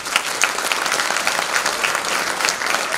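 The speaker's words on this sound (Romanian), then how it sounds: "Aplauze, vă rog." An audience at a Romanian Christmas carol and centenary stage show gives continuous applause, dense and even across the whole stretch, with no voices over it.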